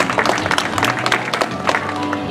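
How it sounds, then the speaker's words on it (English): Audience applause breaks out at a marine park show celebrating a rescued female seal, a dense burst of clapping with some crowd noise and a voice over the PA. "Let's give her a round of applause."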